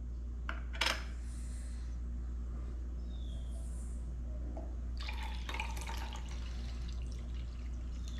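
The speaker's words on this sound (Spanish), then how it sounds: "Ahora le vamos a echar jugo de granada" Organic pomegranate juice is poured into a glass, giving a couple of brief trickling splashes over a steady low hum, with no talking.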